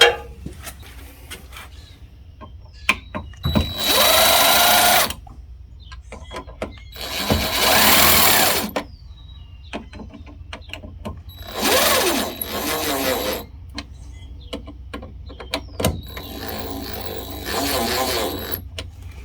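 Four separate bursts of a whirring power drill, each lasting a second or two, with quiet pauses and faint clicks between them.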